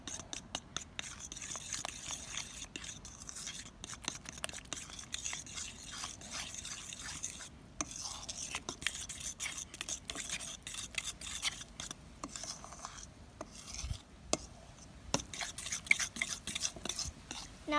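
A veg burger mixture is worked together with flour in a bowl, giving a steady run of wet squelching, scraping and stirring sounds, close and continuous with little pause for nearly eighteen seconds.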